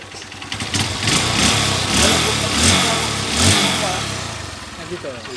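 A Honda Supremo 150 motorcycle engine runs after repair, following nearly a year stored stock, its steady idle and small rev swells close by under a noisy workshop background, with voices talking over it.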